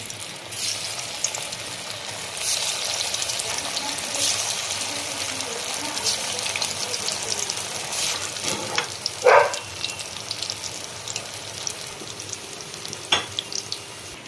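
Soybean kofta balls fry in oil, a steady close sizzle and bubbling crackle with occasional spoon knocks and splashes throughout.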